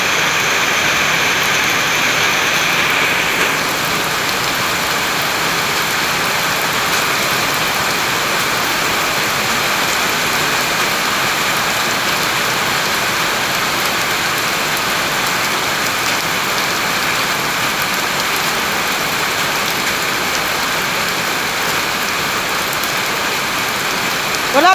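Heavy rain pours in a dense, continuous roar, loud and unbroken throughout with no clear voices.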